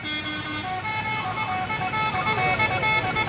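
A loud, tuneful telolet multi-tone horn on a truck plays a bright melody over rumbling road traffic on a hill road in Indonesia, the notes shifting pitch in quick succession.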